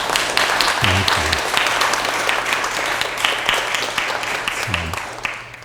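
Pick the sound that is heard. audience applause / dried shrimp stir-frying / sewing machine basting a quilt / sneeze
audience applause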